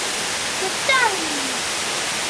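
Water from La Chorrera waterfall rushes as a steady broadband hiss, with a brief whistle-like tone sweeping across it midway.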